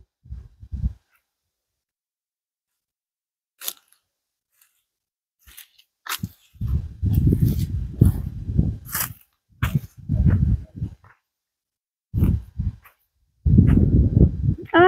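A dog barks in short, scattered bursts outdoors in the dry Caatinga backcountry of Brazil's sertão, loud and close, with quiet gaps between the outbursts and several rapid clusters later on.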